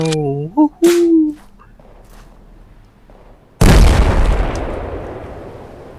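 A gun fires in the Polyfield shooter game: one loud, sharp blast with a long rumbling decay, following a few seconds of quieter voiced sounds.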